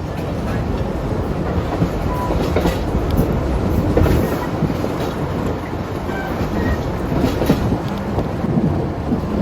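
A historic train in Victoria, Australia rumbles past, loud and close, with a continuous heavy roar and faint rhythmic clatter from the wheels on the rails.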